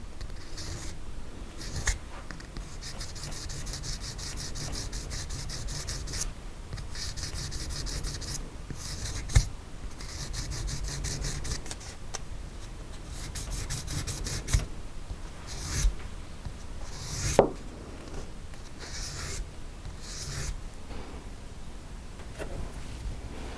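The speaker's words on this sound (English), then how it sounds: "You're using such a fine grit sandpaper." Fine 800-grit sandpaper rubbing across a soldered metal jewelry bezel, a steady close scratchy rasp continuing for a long stretch with brief pauses and a few small knocks, no talking.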